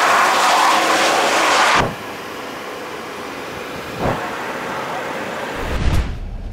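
A BMW 540i M Sport runs in manual mode in first gear, a loud broadband roar at the start that drops to a steady, even engine drone with brief surges, without any talking.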